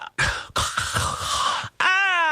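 A person coughs harshly several times in quick succession, loud and close, with wet throaty bursts and a brief gap before a final tonal vocal sound.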